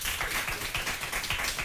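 Studio audience on a French television quiz show applauding a contestant, a dense, steady patter of many hands clapping close up for under two seconds.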